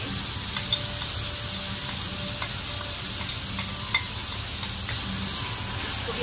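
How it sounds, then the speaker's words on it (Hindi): Ginger and garlic frying in a pan, a continuous close sizzle with occasional light stirring clicks and taps, steady and without voices. "ये अदरक लहसुन को थोड़ा सा भूना है, ये अदरक लहसुन थोड़ा भून गया है"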